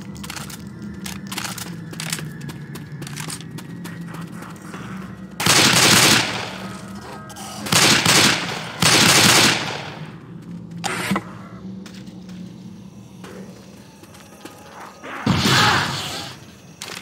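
Video game combat: rapid automatic gunfire crackles steadily while several loud, heavy grenade launcher blasts and bursts of fire break through at intervals, close and punchy.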